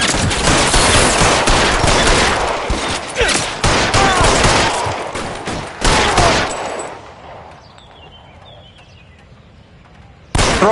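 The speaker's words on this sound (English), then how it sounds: "Fire a warning round." Heavy volleys of gunshots in the video game LA Noire, many sharp cracks overlapping in rapid succession for several seconds, then thinning to scattered shots and near silence before one final loud shot.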